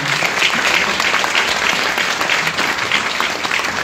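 Audience at a children's theatre festival applauding, a loud dense burst of steady clapping that fills the whole stretch without pause.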